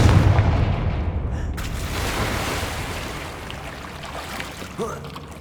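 A Confringo blasting spell goes off in Hogwarts Legacy with a deep, loud boom that rolls off into a long rumbling decay, fading gradually over several seconds.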